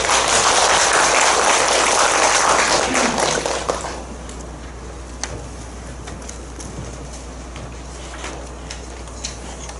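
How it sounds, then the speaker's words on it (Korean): A church congregation claps to welcome a retired pastor to the pulpit at a Sunday service. Loud, dense applause fills the first four seconds and then stops abruptly, leaving quiet room tone with a few scattered taps. "나오실 때 우리 박수로 환영하겠습니다."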